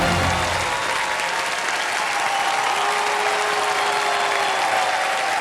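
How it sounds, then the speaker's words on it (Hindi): Loud, continuous studio audience applause on the KBC quiz show set, a dense wash of clapping throughout with a faint tonal sound partway. "thank you so much audience"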